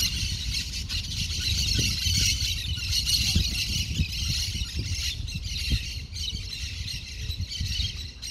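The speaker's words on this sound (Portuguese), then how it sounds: "canto dos pássaros" Birds call and squawk steadily around the palm-lined grounds of a hunting and fishing club in a southern Uberlândia neighborhood, a dense bright chorus of repeated calls over low traffic rumble, with no talk.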